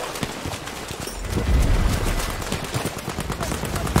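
Gunfire crackles in a Battlefield 5 match as a rapid series of sharp, fairly close reports repeats over a dense bed of game noise, with no speech over it.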